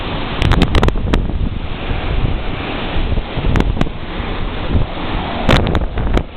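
Hurricane Dean batters the coast as roaring wind and surging water pound the microphone in loud, relentless gusts, with heavy buffeting thumps over a constant rushing roar.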